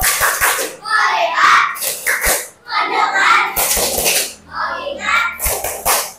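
A classroom of students does a focus clap: sharp, close hand claps in quick clusters, interleaved with children chanting and a teacher's voice.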